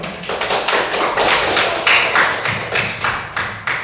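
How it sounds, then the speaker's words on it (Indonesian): Hands clapping in a group during a religious education class practice, a series of distinct, rhythmic claps close by, loud and fairly regular. "mari beri tepuk tangan"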